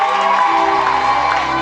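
Congregation cheering during a Sunday church service in Libreville, Gabon, a loud dense wash of crowd voices and shouts under sustained tones from amplified music, continuous and close throughout.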